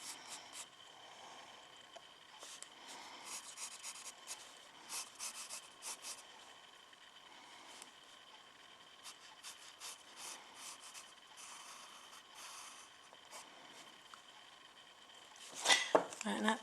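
An eraser rubs at a pencil drawing on paper, producing soft scratchy strokes in quick repeated bursts, faint and close, with a louder rustle near the end.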